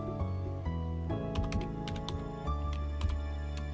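Someone typing a sentence on a computer keyboard in Microsoft Word, a steady run of quick close keystrokes over a humming, tonal background, with no speech.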